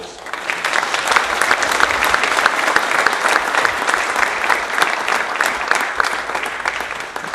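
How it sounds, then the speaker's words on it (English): Steady, dense applause from a conference audience at the inaugural session of a TiEcon business event, sustained at an even volume throughout with no voices standing out. "please give him another warm round of applause"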